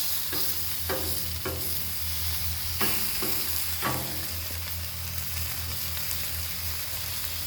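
Chicken sizzling on a Blackstone griddle, a steady loud hiss with a few sharp scraping taps from a spatula, close and with no one talking.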